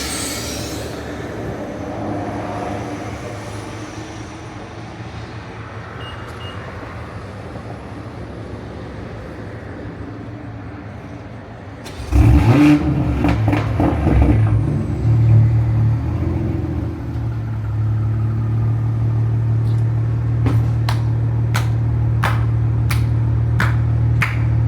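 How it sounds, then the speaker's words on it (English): A BMW car engine cranks and fires at about 12 s, rumbling loudly near the microphone and then settling into a steady idle, with a few sharp clicks toward the end. "Let me give y'all a cold start."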